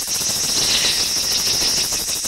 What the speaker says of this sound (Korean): 이것도 숲에 있는 매미 소리인데